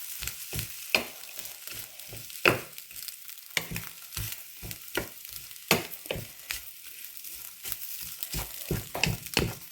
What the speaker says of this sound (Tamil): ரொட்டியை போட்டுட்டு நாங்கள் எல்லாத்தையும் கலப்போம்